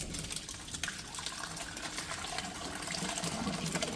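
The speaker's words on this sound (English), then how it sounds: "now I'm just going to pour that into the cloth" Whey from curdled milk poured through a clean dishcloth set in a sifter, making a steady, continuous gushing splash that stays fairly loud from start to finish.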